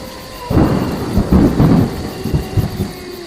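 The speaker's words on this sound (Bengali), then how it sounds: "মেঘে আকাশ আচ্ছন্ন হয়ে মুষলধারায় বৃষ্টি আরম্ভ হল" A thunder and downpour sound effect from a ghost story: deep rolling thunder rumbles in several heavy surges over the steady hiss of torrential rain, loud and close.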